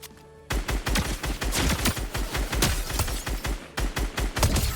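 Rapid gunfire in the Fortnite video game, with loud sharp shots cracking in a fast, uneven burst after a brief quiet start, followed by a short pause and another burst.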